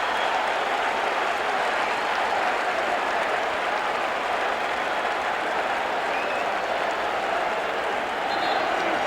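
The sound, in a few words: basketball crowd cheering at NBA Finals game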